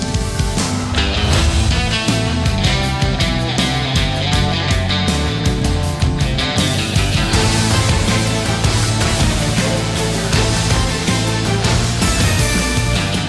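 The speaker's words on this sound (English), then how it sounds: "it's a big brouhaha of a track full of bravado, big egos, and bigger guitar licks" A loud, driving rock instrumental from Final Fantasy VII Rebirth, with busy electric guitar licks over steady drums and bass, playing continuously without vocals.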